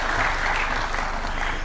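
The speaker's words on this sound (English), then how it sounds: "We can clap for him as he's coming." An audience at a university launch event in Nairobi applauds as a speaker walks up, a dense, steady wash of clapping filling the room briefly.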